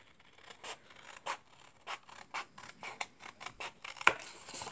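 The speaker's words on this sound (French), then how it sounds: "Ensuite, on vient couper, on vient enlever les bords là." Scissors snip repeatedly to trim off the edges, a series of short, crisp cuts in an irregular rhythm, close and fairly quiet.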